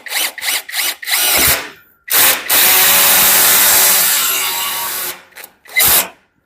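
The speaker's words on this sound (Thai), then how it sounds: "ถ้ามันไม่เอียงแล้วก็ ทำการ เจาะเลย" A power drill bores straight through for a sliding door roller: a few short loud bursts, then one long sustained run of drilling and two brief final bursts, close and with no talk.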